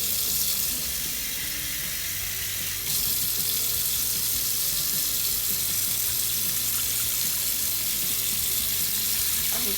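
Water pours continuously from a tap into a sink during rinsing, a steady rushing splash that grows slightly louder after a few seconds and runs unbroken to the end.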